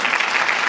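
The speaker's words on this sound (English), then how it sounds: "No applause needed." A short burst of steady hand-clapping applause from a small studio group during a live stock, options and futures trading broadcast, dense and even throughout.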